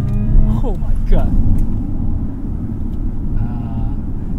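A 2023 HiPhi Z electric performance sedan weighing about 2.5 tonnes accelerates hard, a low road and cabin rumble steady beneath people talking inside.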